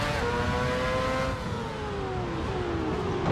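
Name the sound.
racing car engine in Assetto Corsa video game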